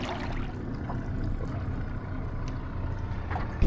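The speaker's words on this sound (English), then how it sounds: "Mateo rowing back here to get us over into the channel" Oars row a small boat through a harbor channel near Boot Key, with a steady low wash of water and faint splashes under constant background noise.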